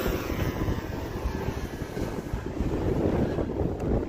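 A Tower Mustang RC model airplane takes off, its engine making a steady close roar mixed with wind noise on the microphone throughout, with no talking.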